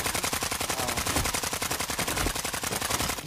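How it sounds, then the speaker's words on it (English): Sustained automatic gunfire in Warzone 2.0, a fast, even stream of loud, close shots hammering on without pause and cutting off just before the end. "Who is shooting me now?"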